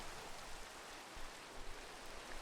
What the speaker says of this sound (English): It's raining a lot, and there is a lot of lightning.